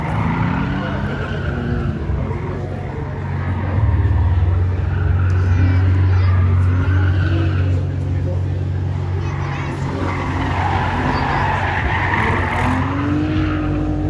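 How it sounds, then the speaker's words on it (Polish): A Ford Mondeo ST race car at a Puławy super sprint event screams past with a loud, sustained engine roar and tyre squeal, the engine note rising and shifting as it skids through the course. "zobaczymy, jak sobie poradzi Ford Mondeo ST"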